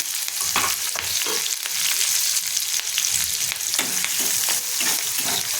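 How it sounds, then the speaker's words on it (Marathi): Cumin, crushed garlic, onion and curry leaves fry in hot oil in a kadhai, giving a steady close sizzle broken by occasional stirring scrapes. "इथे कढईमध्ये मी तेल गरम करत ठेवलेलं आहे त्याच्यामध्ये जिरं टाकून घेते बारीक चेचून घेतलेला लसूण एक कांदा आणि कढीपत्ता"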